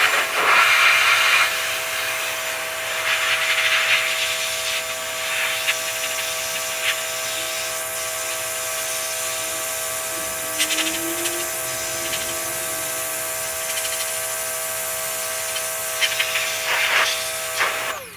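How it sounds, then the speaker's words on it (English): A pressure washer blasts the radiator condenser of a Tesla Model 3, a loud, steady hissing spray with a high whine running throughout, surging briefly near the start and end, with no talk. "the pressure washer shenanigans begins"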